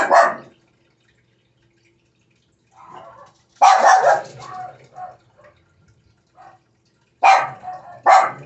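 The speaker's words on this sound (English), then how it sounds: "My dog was going crazy." A dog barks in short, loud bursts: one at the start, a longer run of barks midway and two more near the end, with quiet gaps between and no talking.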